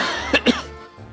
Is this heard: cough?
yes